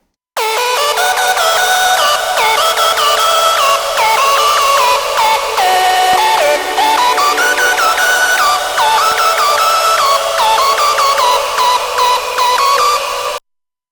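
Bright, buzzy synthesizer lead programmed in Native Instruments Massive, modeled on the lead from a track, playing a continuous melodic line of sliding, stepping notes, loud and steady, alone without any talking.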